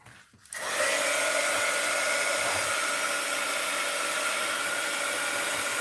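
A heat tool blowing on watercolor paper switches on with a click, then gives a loud, steady, close whooshing roar that holds unbroken for several seconds.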